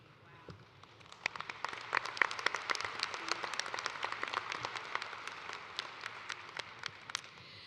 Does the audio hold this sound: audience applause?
yes